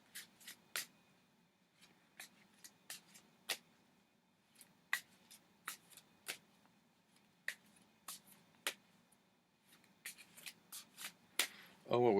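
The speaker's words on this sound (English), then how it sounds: "Shuffles pretty well." A Miss Cleo's Tarot Power Deck is shuffled by hand, giving crisp, quick bursts of riffling cards in irregular clusters over a quiet background, growing busier toward the end.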